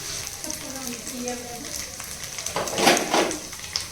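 Ginger garlic paste sizzles in a pan after mint has been fried, a steady close hiss with a burst of louder crackling as it is stirred, while a voice talks briefly.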